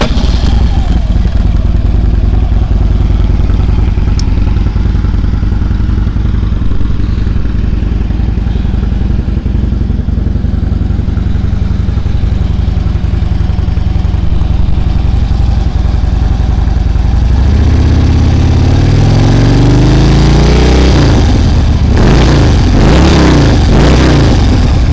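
A loud motorcycle engine runs steadily close by, idling with a deep rumble, then revs up and down near the end.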